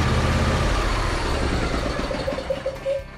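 A Husqvarna riding lawn mower's small engine runs steadily up close, a loud continuous mechanical drone with a faint rhythmic pulse, easing slightly toward the end, with no talking.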